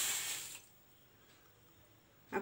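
Water pours from a vessel onto sugar in a pan for jalebi syrup, a brief splashing gush that stops, then a quiet pause and a short final splash.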